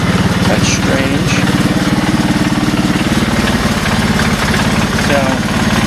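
A 1984 Honda ATC200S three-wheeler idles close by with a steady, even, loud chugging throb.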